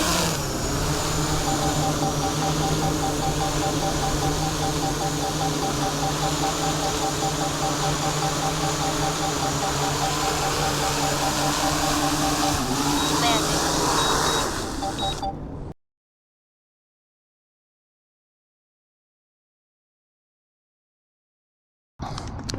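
A small camera drone takes off, hovers steadily and lands under manual control, giving a continuous close whine of spinning propellers with tonal hum, a few faint electronic beeps, then the motors cutting abruptly to silence.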